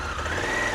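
A Honda HAWK 11 motorcycle engine idles with a steady, low rumble close by, a continuous throbbing tone with no talk over it.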